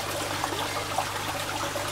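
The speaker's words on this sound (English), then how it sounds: "I've got my my fountain going there, and I've got the return pipe which is blowing lots and lots of oxygen into the water." A garden pond's fountain and return pipe splash steadily into the water, giving a continuous close, bubbly trickle and patter at even loudness, with a low hum beneath.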